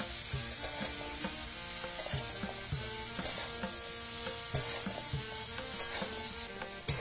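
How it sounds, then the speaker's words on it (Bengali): Soft, continuous sizzling of vegetables frying in a pan for millet khichdi, with occasional clinks and scrapes of stirring throughout. "সবজিটা ভালো করে ভেজে নেব"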